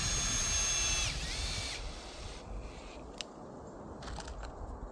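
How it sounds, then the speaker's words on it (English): A power drill drives screws into railroad track ties in winter, a loud whining drill run of about a second ending as the screw seats, followed by quieter outdoor handling and clinks. "I'll sink a few screws in here just to make sure the track doesn't move any further."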